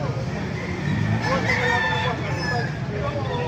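A Hene Blues gamecock rooster crows amid a noisy poultry gathering in Baliuag, Bulacan, its call rising over a dense background of other fowl and crowd murmur, with voices present.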